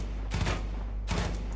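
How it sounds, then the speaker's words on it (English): Gunfire in the video game Far Cry 5 comes as two short bursts about three quarters of a second apart, over a steady low background hum. "Roy, stop shooting this motherfucker."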